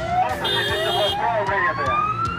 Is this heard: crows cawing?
no